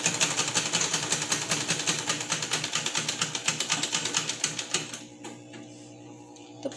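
An old foot-operated treadle sewing machine over 75 years old runs with a fast, steady mechanical clatter, then slows and stops near the end, leaving a faint hum.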